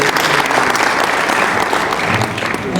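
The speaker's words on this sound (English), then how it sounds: "Can we applaud him?" Brisk audience applause at a closing ceremony of a transport and logistics forum in Africa, dense and steady throughout the short stretch.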